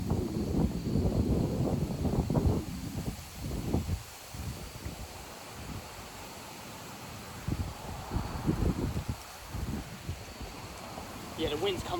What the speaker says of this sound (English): Yeah, the wind's coming in like crazy.